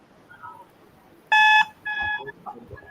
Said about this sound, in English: Fingers on your buzzers.